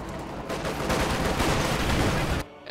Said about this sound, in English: look at all the rockets going on